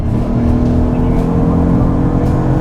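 Porsche Panamera accelerating down the back straight of the Sepang race track, a steady droning engine and road roar heard from inside the car, with no pause for 2.7 seconds.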